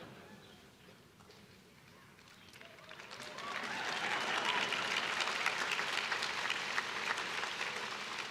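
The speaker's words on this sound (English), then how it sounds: "You know it's a nice crowd when a drink of water elicits applause." Audience applause breaks out midway through a speech, swelling from a quiet room into sustained, dense clapping from a large crowd that holds steady to the end.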